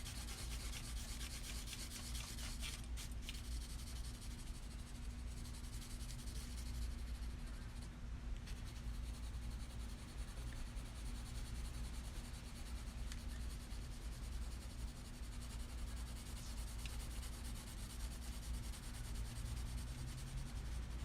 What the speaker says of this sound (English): I still have a lot of light polishing to do in my ball and in my tape.